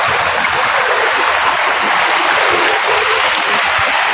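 River water at Paligawan in Carmona, Cavite rushes steadily and close by, a constant broadband wash of flowing stream with no talk over it.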